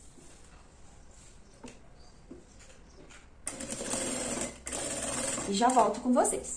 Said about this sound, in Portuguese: Agora eu vou passar uma costura em toda a volta para segurar o tecido e a entretela.